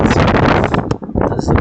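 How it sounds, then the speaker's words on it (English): Strong wind buffets the microphone in a loud, continuous roar, with a brief lull partway through before gusting again. "That's the wind."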